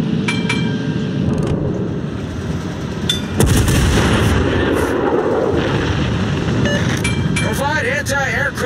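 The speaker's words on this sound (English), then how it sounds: "Concentrate fire on the enemy warship." Warship gunfire in the World of Warships naval combat game: repeated heavy cannon blasts with rumbling booms, a big broadside near the middle, over continuous engine and sea noise, with brief radio-like voice callouts.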